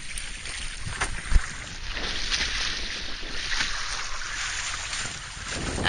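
Sailboat with its dagger board down, tacking across choppy, lumpy Black Sea water: steady rushing wind and water noise against the hull, with a few light knocks, no voices.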